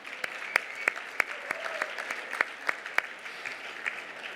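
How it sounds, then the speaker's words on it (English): Scattered applause for honorees at a Los Angeles awards gala, a small number of sharp, distinct claps in an uneven rhythm over a quiet background, not a full ovation. "Let's give a warm round of applause to all of tonight's honorees."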